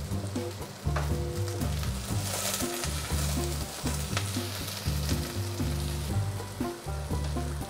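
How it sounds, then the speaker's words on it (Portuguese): Chopped onion and garlic sautéing in hot olive oil, a close, steady sizzle with occasional stirring scrapes, heard over a looping rhythmic tune in the background. "Vamos deixar refogar até a cebola começar a ficar transparente, sem ganhar muita cor."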